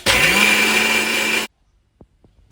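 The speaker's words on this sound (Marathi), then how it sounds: "ते आता आपण बारीक करून घेणार आहोत" A mixer grinder roars loudly as it blends a thick buttermilk mixture, its motor whine steady for about a second and a half before cutting off, then a few faint knocks.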